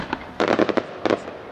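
Fireworks bursting at the Cascade Locks display in 2012, a single pop followed by a rapid cluster of loud crackling booms and another short burst, close and sharp with no talking.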